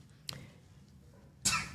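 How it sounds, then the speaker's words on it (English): A person on a live podcast coughs once briefly, then again in two quick bursts after a pause, close and fairly quiet in an otherwise still room. "Why surely y'all gonna let me cough?"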